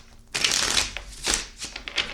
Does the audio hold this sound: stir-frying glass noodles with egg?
no